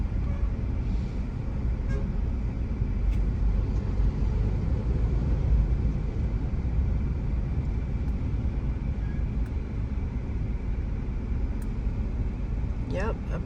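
Steady road traffic on the Ofankor-Nsawam road near a construction site, a continuous low rumble of passing cars and trucks with occasional faint horn toots, heard from a moving vehicle without talk.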